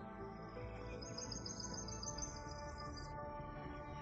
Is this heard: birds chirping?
yes